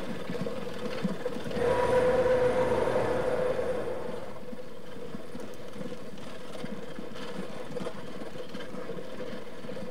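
Train rolling along in the video game Train Fever, a steady low rumble with a louder engine swell near the start that settles into a constant hum.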